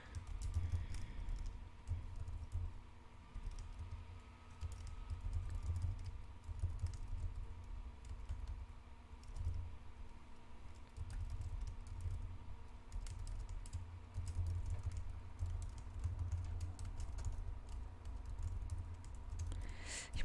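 Someone types on a computer keyboard with steady, quiet clicking keystrokes over a low background hum, continuing for about twenty seconds with brief pauses.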